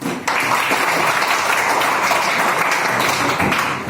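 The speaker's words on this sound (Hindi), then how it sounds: "पहले हेमंत के लिए ताली है।" An audience claps loudly and continuously for a man named Hemant at a gathering, a dense roomful of hands starting abruptly and holding steady throughout.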